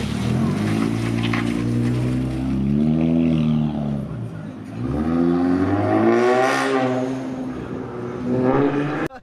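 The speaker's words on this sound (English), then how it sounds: "Blow off valve going off, everything. Custom exhaust." An Infiniti Q60 with a custom exhaust revs hard, its engine note climbing and falling in repeated swells, with the blow-off valve hissing between pulls; loud and close throughout.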